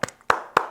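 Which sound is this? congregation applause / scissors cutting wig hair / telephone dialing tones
congregation applause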